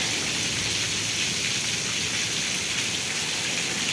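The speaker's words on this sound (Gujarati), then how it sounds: "વેદળકા ગામમાં વરસાદ." Heavy rain pours steadily on a village during a storm with wind and lightning, a dense, loud, unbroken roar of falling water and drops striking surfaces, with no voices.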